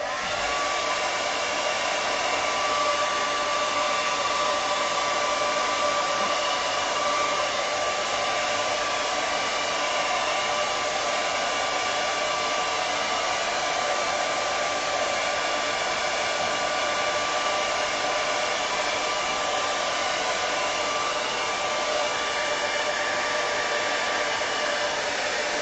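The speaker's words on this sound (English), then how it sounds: "I'm going to grab the hairdryer and dry off the masking fluid" A hair dryer blasts continuously at close range while drying masking fluid on a watercolour flower painting, a steady loud whoosh lasting the whole stretch with no talk.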